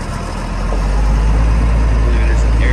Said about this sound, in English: Good sounding motor. Caterpillar 3116 in it.